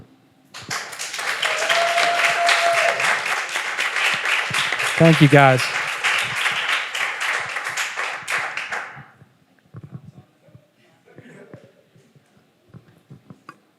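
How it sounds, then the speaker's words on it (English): An audience at an entrepreneurship panel gives the panelists a round of applause, sustained clapping for about eight seconds with a brief voice of thanks in the middle, then trailing off into quiet. "round of applause."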